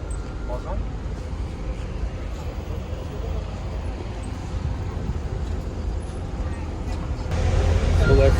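Road traffic jammed outside a mosque in Uzbekistan after prayers: a steady low rumble of idling and slow-moving vehicles with crowd murmur, swelling louder near the end.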